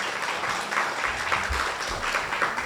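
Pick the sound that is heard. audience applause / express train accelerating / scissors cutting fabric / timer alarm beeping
audience applause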